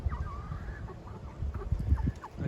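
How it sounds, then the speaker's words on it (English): A young rooster gives a hoarse, wavering crow amid ongoing clucking from nearby chickens. "He's still learning how to crow."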